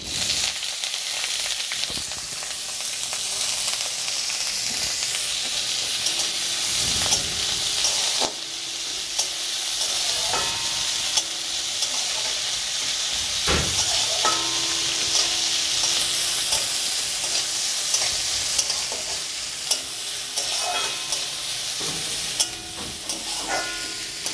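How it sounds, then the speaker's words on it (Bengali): Chopped onion frying in mustard oil, a steady loud sizzle with crackling pops and occasional stirring scrapes running throughout without pause. "দিয়েছি সর্ষের তেল, আর এর মধ্যে দিয়ে দেবো পেঁয়াজ কুচানো"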